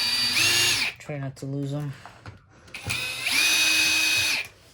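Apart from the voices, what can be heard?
power screwdriver removing screws from Dirt Devil Endura Express vacuum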